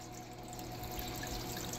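Water splashing steadily from a hang-on-back aquarium filter, a continuous close rushing hiss like a small waterfall, even and unbroken throughout.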